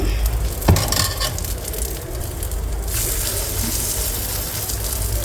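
Bara fritters fry in a small amount of oil on a home cooking stove, giving a steady sizzle and crackle that grows brighter and louder partway through, with one sharp clack near the start and no talk.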